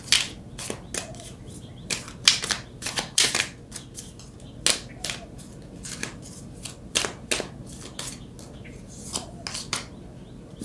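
Tarot cards shuffled and handled in irregular bursts of crisp riffling and slapping, close and fairly quiet, with short pauses between flurries and no talking.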